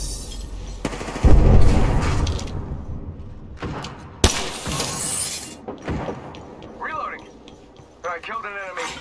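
Loud, close bursts of gunfire and heavy impacts from Apex Legends combat, strongest near the start and again midway, with voices talking over the action.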